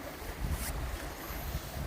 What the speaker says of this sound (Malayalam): ഇത് പതുക്കെ ഈ ഡാം തുറക്കുകയാണ്.